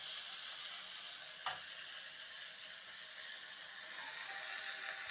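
Meat tossed with onion, ginger, garlic, green chilli and tomato sizzles in a pan for taheri, a steady, fairly quiet frying hiss with one brief clatter near the start.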